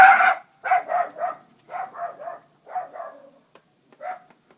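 A dog barks repeatedly nearby in a garden where semi-ripe cuttings are being taken, about eight sharp barks in uneven bursts, some doubled, with short pauses between.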